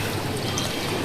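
Water poured onto dried-out plants on a rooftop terrace, a close, continuous splashing rush with no talk over it.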